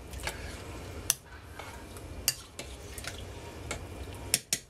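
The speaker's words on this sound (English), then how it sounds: "So just giving it a little stir." A spoon stirs barley, pears and prunes in a pot, giving soft wet swishing with several sharp clinks of metal against the pot at irregular intervals, close and fairly quiet.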